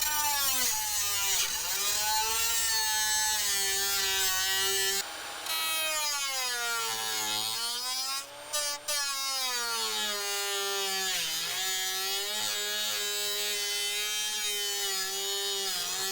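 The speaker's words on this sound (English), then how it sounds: "after a fair bit of cutting with my angle grinder and whatnot" An angle grinder cuts rotted metal out of a Ford Mustang's body, a loud sustained whine that rises and falls in pitch as the disc loads and frees up, with brief breaks and no talk.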